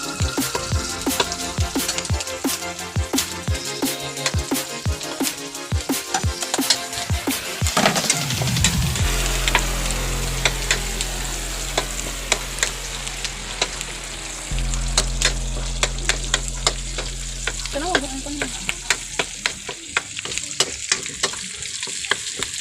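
Garlic and onion sauté in hot oil for pinakbet, a steady loud sizzle and frying hiss with stirring scrapes and clatter of a utensil in the pan, no talking.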